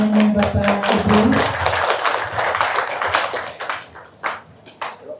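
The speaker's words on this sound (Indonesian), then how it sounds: "Boleh kami minta tepuk tangan Bapak Ibu." An audience at a public health center integrity-zone ceremony claps together, a dense burst of handclaps that is loudest at first and then thins out to a few scattered claps, with a voice briefly audible at the start.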